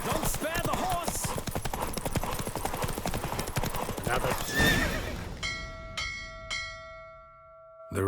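Fast galloping hooves pound in a rapid rhythm during a horse race in the video game The Witcher 3: Wild Hunt, with a horse whinnying, then fade out as bright bell chimes ring; a voice speaks briefly.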